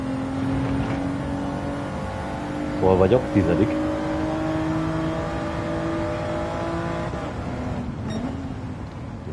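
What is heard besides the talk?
car engine sounds in a racing video game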